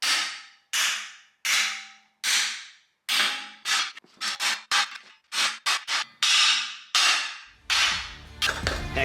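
Hammer banging a part off a lifted long-travel Chevrolet Silverado, a rapid series of sharp metallic strikes in irregular bursts, loud and close, ending in a rattling clatter.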